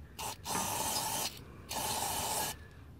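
Spray-on alcohol squirted into a diesel particulate filter on a Mercedes OM642 diesel: a close, loud hissing spray comes in three bursts, a brief one, then two long ones separated by a short pause.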